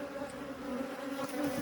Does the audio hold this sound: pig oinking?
no